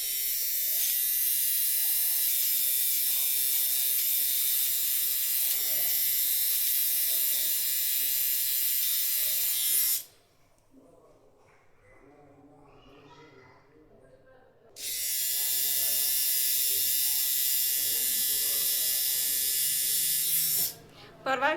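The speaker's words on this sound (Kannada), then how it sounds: "ಅದು ಕೂದಲು ಕಟ್ಟಾಗೋವಾಗ ಸೌಂಡ್ ಬರುತ್ತೆ." A woman's electric hair trimmer buzzes loudly and steadily while cutting her hair at home, cutting out for a few seconds of quieter handling with faint talk before the buzz resumes.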